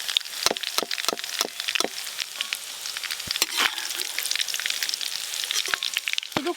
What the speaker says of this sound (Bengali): বেরেস্তা ভাজা প্রায় হয়েই এসছে